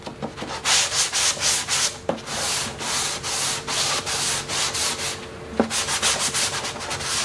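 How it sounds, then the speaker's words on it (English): A sanding sponge is rubbed back and forth over oak cabinet wood in quick, rhythmic rasping strokes, close and steady with brief pauses and no talking. "sometimes sanding the corners of my sanding sponge will start to get worn down"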